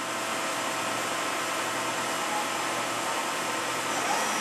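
The spindle of a Daewoo ACE-H100 horizontal machining center runs at 600 RPM, a loud, steady, broadband whirring hum that holds unchanged throughout with no talk over it.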